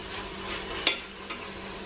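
Mint and coriander leaves sautéing in a pan for country chicken biryani, a soft, steady sizzle with a couple of brief stirring scrapes, close and quiet.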